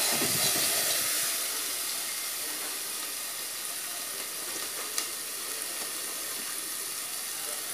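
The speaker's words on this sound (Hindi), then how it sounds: "देखिए शिमला मिर्च हम चला लेंगे इसको अच्छे से" Capsicum sizzles steadily as it is stirred in a hot pan on a tawa, with a continuous soft frying hiss and occasional faint scrapes, close and alone without any talk.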